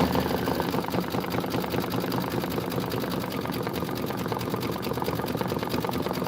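Embroidery machine stitching out a Kimberbell Autumn Acres apple tree design, a steady, rapid mechanical rattle of needle strokes that runs unbroken and fairly loud for the whole stretch.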